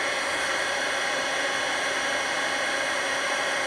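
An embossing heat gun used in card making blows with a loud, steady, hissing airflow that sounds like a hair dryer and runs without a break.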